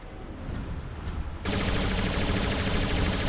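Manual gunfire in the War Robots video game, rapid game weapon fire that starts quietly and then jumps to a loud, dense, sustained burst.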